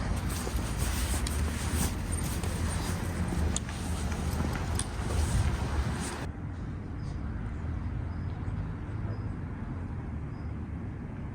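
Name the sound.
cars driving along busy street in Portree, Isle of Skye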